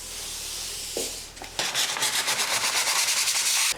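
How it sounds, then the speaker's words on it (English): Light sanding of a painted surface: after a brief scrape, quick rhythmic strokes of abrasive rub back and forth across it, close and steady. "I'm just lightly sanding it now that it's been here for 2 years"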